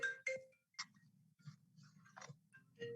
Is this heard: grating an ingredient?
no